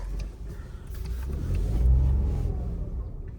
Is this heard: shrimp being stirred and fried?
no